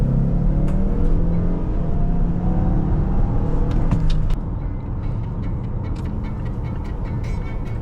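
A 2023 Mazda CX-5 AWD turbo crossover accelerating hard, a loud continuous engine drone rising in pitch heard from inside the cabin, easing slightly partway through.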